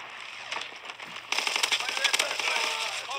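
Mortar strike explosions in Call of Duty WWII burst in a rapid crackling barrage that grows louder partway through, a rattling sequence of blasts and debris with a voice speaking underneath.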